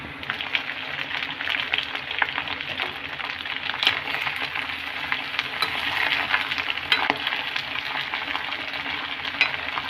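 Chicken feet fry in a pan with a dense, crackling sizzle that carries on steadily for several seconds, close and fairly loud, with tiny pops scattered through it.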